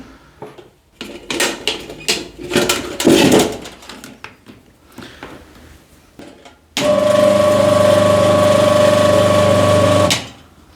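A herb chopper's newly replaced electric motor runs smoothly for about three seconds as a steady, loud hum that starts abruptly and cuts off, following a stretch of clattering handling and knocks.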